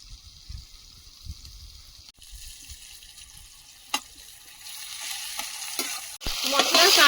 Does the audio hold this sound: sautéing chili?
yes